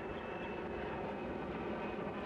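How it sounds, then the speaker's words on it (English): A Stearman biplane engine in the game Microsoft Flight drones steadily as a dense, even roar with no clear change in level. "As the engine quits, move the throttle to full."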